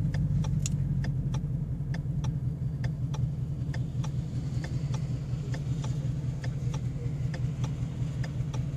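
A 2015 Ford Mustang GT with Magnaflow street exhaust and an FRPP X-pipe drones steadily as it cruises with the windows down, a continuous low rumble with faint ticking over it and no talking.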